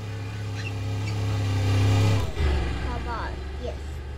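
A car engine in the Roblox game Crash Beach Drive revs and drones steadily, rising in pitch, with a person talking over it.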